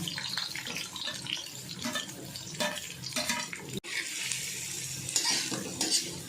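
Curry leaves sizzle and crackle in oil in an iron pan while fenugreek chutney is being made, a steady close frying hiss with brighter bursts near the end and no talking.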